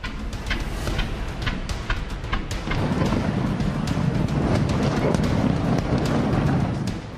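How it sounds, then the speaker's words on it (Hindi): Deep, continuous rumbling booms of explosions in Caracas, Venezuela during US strikes roll on, dotted with sharp crackling bursts, loud and sustained throughout. "काराकास में जोरदार धमाके"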